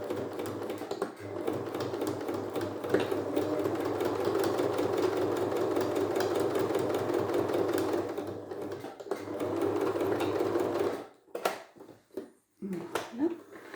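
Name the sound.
sewing machine stitching a fabric mask seam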